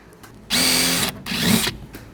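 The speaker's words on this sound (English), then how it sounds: "Now I'll go inside the fender and drill them to the hole size we need." Power drill boring holes inside the fender of a 1970 Dodge Dart, two short loud whining bursts, close up, with a brief pause between them.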